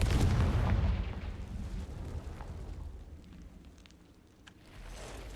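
A Confringo spell explodes in the video game Hogwarts Legacy near a spider cave, a deep booming blast that rumbles loudly, then fades into a low echoing tail with faint crackles.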